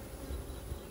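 Honey bees buzzing at a hive, a brief, close, low drone with a slightly wavering pitch.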